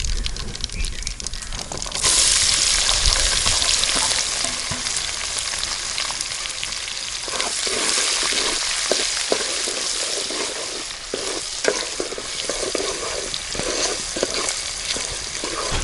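Onions frying in a pan for a spicy village-style rabbit curry, a steady loud sizzle with crackling and occasional stirring scrapes running throughout, no voices.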